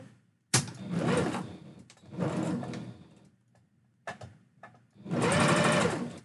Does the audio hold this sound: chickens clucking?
no